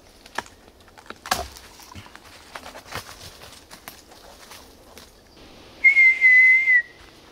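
Following some clicks and tapping, a voice briefly imitates a very high-pitched whistle once heard in a swamp, giving one steady, close whistled tone of about a second near the end.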